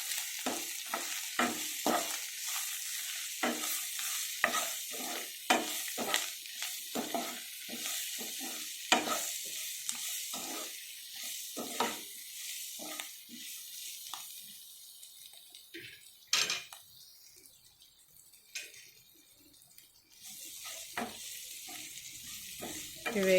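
Seasoning frying in a pan with salt and turmeric added, with a bright continuous sizzle and repeated rhythmic scraping from stirring, close by, thinning out near the end.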